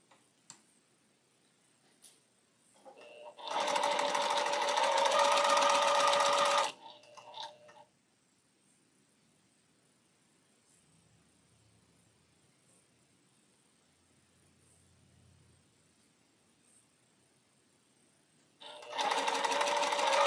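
A sewing machine stitches quilt pieces together for a Halloween bat quilt, running in a steady loud burst of a few seconds, stopping, then starting again near the end amid quiet room tone.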